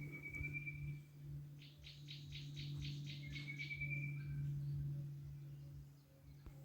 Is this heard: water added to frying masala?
no